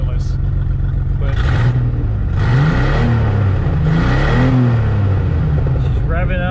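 A Ford Bronco II engine idles and revs up several times, rising and falling in pitch, loud and close, with a steady rumble underneath.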